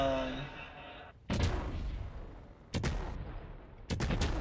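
A farm blows apart from fireworks in Fireworks Mania, with three loud, sharp explosions about a second and a half apart, each trailing into a rumbling, crackling decay.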